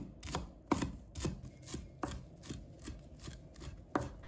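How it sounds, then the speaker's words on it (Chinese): Knife chopping fresh cilantro into short pieces on a cutting board, with steady, evenly spaced close thuds repeating about twice a second, heard alone with no talk. "再准备几根香菜，把它切成小段。"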